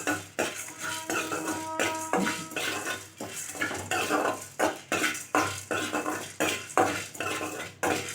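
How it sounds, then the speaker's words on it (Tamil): A spoon scrapes and taps against a metal pan as dry red chili and spices are roasted for coconut milk rasam, giving repeated rhythmic clinks and stirring scrapes, close and clear, with no talking. "ஒரு காஞ்ச மிளகாய், இதெல்லாம் சேர்த்து சும்மா லைட்டாக சூடு வர வரைக்கும் வறுத்துக்கலாம்."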